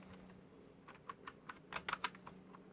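Quiet keystrokes on a computer keyboard while a search term is entered into a Windows search box, a sparse run of light taps that bunches into a quicker flurry near the end over a low steady hum.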